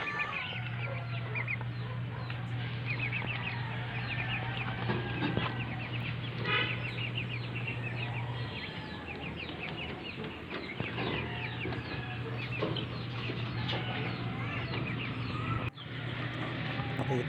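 Five young pet chickens in a backyard clucking and chirping continuously at close range, with a steady low hum running under much of it.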